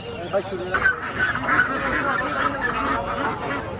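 A dense clamor of ducks and geese honking and quacking together at close range at a village market, with a steady crowd murmur of voices running underneath.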